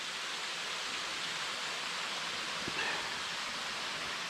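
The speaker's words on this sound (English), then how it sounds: "Old waterfall coming off the mountain over there." A distant mountain waterfall swollen after rain pours steadily, a broad, even hiss of falling water filling the scene with no other sounds.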